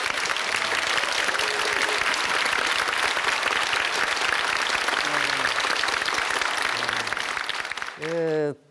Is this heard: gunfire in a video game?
no